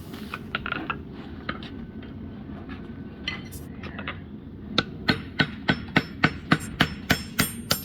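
Blacksmith tongs are forged with a hammer, starting with scattered taps and then building into a quick, even run of ringing metal blows on the anvil, fairly close.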